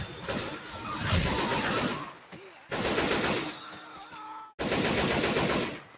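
Rapid automatic gunfire in the Left 4 Dead 2 zombie shooter, loud sustained bursts broken by two short pauses, with a faint mechanical clatter between them.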